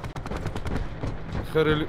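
Rapid bursts of video game gunfire crackle in quick succession, with a voice briefly heard over them.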